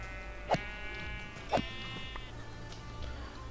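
Two sheep bleats from the video game Minecraft, one near the start and another a second later, each short and wavering, over a steady low game background with no talking.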